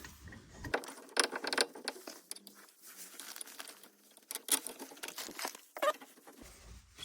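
Bolts being screwed into a Porsche Boxster rear brake caliper, a close, irregular run of metallic ratcheting and clicking with some rustling, and no talk.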